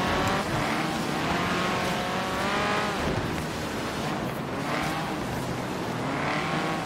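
Race cars in Forza Horizon 3 roaring continuously and loudly, with engine notes sweeping up and down through gear changes, and no voices.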